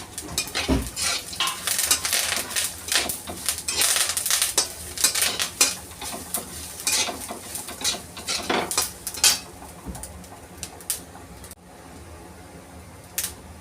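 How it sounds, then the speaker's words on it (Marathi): Dry coconut roasting in oil in a pan while a spoon scrapes and stirs steadily, clattering against the metal over a soft sizzle, close and fairly loud, tapering off near the end. "आता यामध्ये आपण जे सुकं खोबरं घेतले ते ह्याबरोबर भाजून घ्यायचे आपल्याला"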